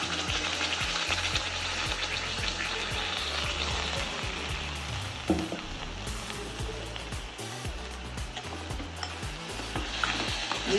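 Puree tipped into a pan of golden-browned ingredients for a protein rice bowl fries with a steady, loud sizzle, while a spoon scrapes and stirs through it in repeated short strokes.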